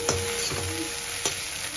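Potatoes mixed with eggs and chowmein fry in a pan with a steady sizzle, broken by a few quick spatula scrapes as they are stirred. No one speaks.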